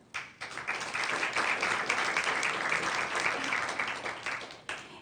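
Audience applause at a school board meeting honoring district energy conservation specialists: a dense, sustained round of clapping that swells quickly, holds steady for several seconds, then tapers off near the end.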